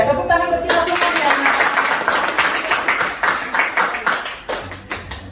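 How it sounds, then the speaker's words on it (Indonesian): A classroom of children claps together in rapid, loud, irregular bursts that grow sharper and more spaced toward the end, with voices mixed in. "Tepuk tangan buat kita semua ya."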